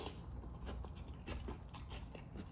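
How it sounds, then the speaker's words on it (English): Crunchy vegetables being chewed from a self-heating instant hot pot, close-up crunches and wet bites repeating irregularly over a steady low background hum, with no talking. "that crunch in the veggies is really nice"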